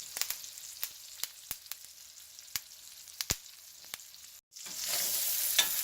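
A T-bone steak sears in a pan of melted butter with thyme and rosemary, giving a steady quiet sizzle broken by sharp isolated pops and spatters, then a louder burst of hissing near the end.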